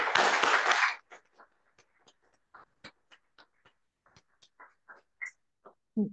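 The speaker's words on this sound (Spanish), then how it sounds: "Démosle un aplauso final a la doctora" An audience applauds a doctor at the close of a seminar: a dense burst of clapping for about a second, then a scattered tail of lone claps fading out.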